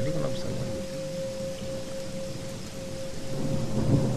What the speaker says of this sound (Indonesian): Petir tadi Pak, listrik mati